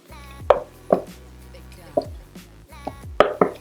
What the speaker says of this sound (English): we are going to toss this whole container into a mixing bowl